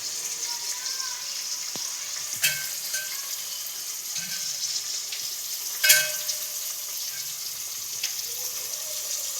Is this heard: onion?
yes